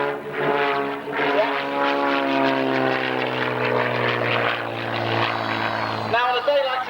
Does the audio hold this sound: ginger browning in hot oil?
no